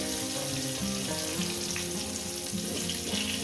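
Potato pieces and cauliflower fry in a pan with a loud, continuous sizzle and bubbling hiss, close and unbroken throughout.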